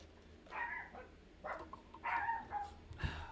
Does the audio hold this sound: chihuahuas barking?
yes